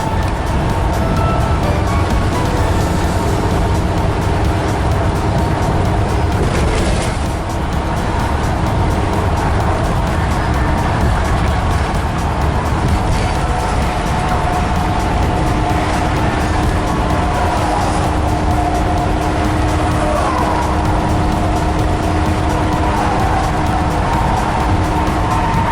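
A car drives across a bridge on a road trip through Missouri, Illinois and neighboring states, with a loud, steady roar of road and engine noise from inside the vehicle and no talking.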